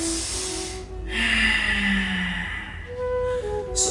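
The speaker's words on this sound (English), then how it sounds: "I am breathing in loud and exhaling loud just because I want you to understand the breathing technique" Loud, deliberate yoga breathing close to the mic, one long noisy inhale and exhale after another with a steady, slow rhythm and no talking.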